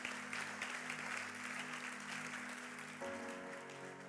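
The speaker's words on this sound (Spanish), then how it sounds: "¿Cuántos pueden darle un fuerte aplauso a Dios?" A church congregation claps during a Sunday worship service, a sustained, moderately distant wash of many hands that continues evenly for several seconds as a low hum runs beneath it.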